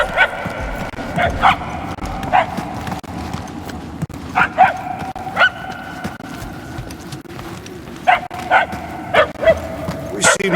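Dog barks and whimpers from Marvel's Guardians of the Galaxy video game, set in the Knowhere chapter: several separate yelps and barks at irregular intervals over a low, steady ambient rumble.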